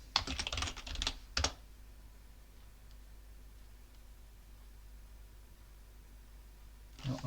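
A computer keyboard is typed on for a Linux terminal command on a Debian system: a quick burst of close clicking keystrokes for about a second and a half, then near silence, with a few more keys at the end.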